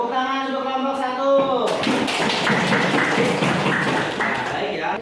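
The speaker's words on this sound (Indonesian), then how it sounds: "Tepuk tangan untuk kelompok 1." Classroom applause for a group of pupils in a primary maths lesson, a dense burst of many hands clapping that starts after a brief spoken moment and continues steadily to the end, fairly close and loud.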